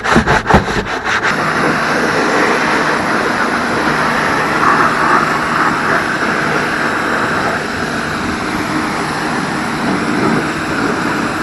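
A brush scrubs a car's brake caliper and rotor, a steady loud rasping rub close up that runs for several seconds after a few quick initial strokes.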